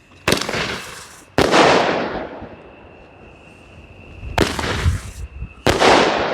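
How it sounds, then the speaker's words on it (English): Kong roman candle firework by Hail Fireworks fires outdoors, several loud sharp bursts in two pairs with long crackling decays and a thin whistle trailing between them. "this is the Kong by Hail Fireworks, and I don't really know what this one's going to do."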